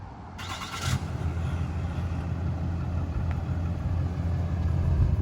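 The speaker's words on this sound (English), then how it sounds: "To remote start the truck, lock it once and double click on the remote start button." A 2020 Ram 2500 Night Edition pickup with a 6.7L Cummins turbo diesel starting by remote, a sharp crank at the start settling into a steady low diesel idle rumble that carries on without talk.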